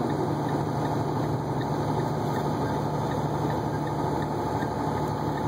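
A truck with an Eaton Fuller transmission cruises in tenth gear, its diesel engine giving a steady, loud low drone with tonal hum and cab rumble, continuous and unchanging with no voices.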